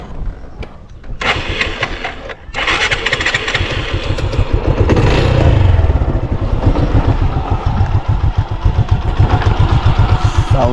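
A Suzuki Gixxer Monotone motorcycle with three years and 33,000 km of use idles close by, its single-cylinder engine popping steadily. After a short break it settles into a louder, rougher running note.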